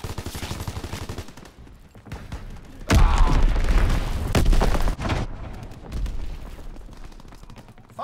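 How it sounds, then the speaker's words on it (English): In the Call of Duty WW2 game, a fighter plane strafing run sends rattling gunfire, then heavy bomb explosions boom loud and close, followed by lingering rumble and scattered blasts. "Pilot inbound, strafing the target. Enemy bomb incoming, get to cover!"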